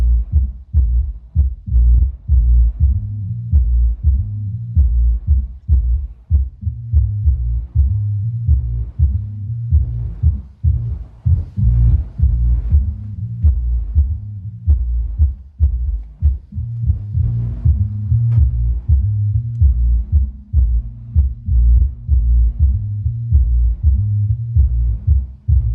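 Deep bass music thumps from an ElectroVoice ELX200-18SP 18-inch powered subwoofer, a loud, steady run of pulsing low-end beats with a repeating rhythm and no voices.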